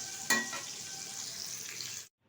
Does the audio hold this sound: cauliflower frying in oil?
yes